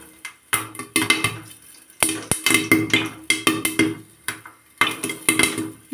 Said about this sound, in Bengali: আর দেখেন যে ফুটা শুরু করছে, সবগুলো ফুটে গুলুমুলু হয়ে ফুলবে।